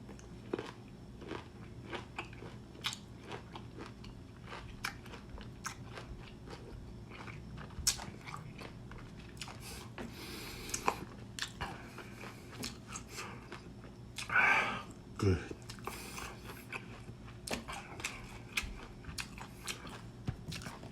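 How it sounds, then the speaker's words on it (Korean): Crisp bites and steady crunchy chewing of a fresh lime, close to the mouth, repeating in an irregular rhythm with small wet crackles throughout. "라임 먹어보겠습니다"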